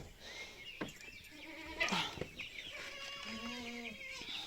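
Several young goats bleat in turn, wavering calls rising and falling, with hens clucking faintly nearby.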